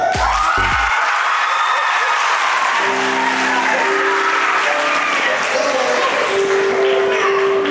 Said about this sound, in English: y'all can cheer and clap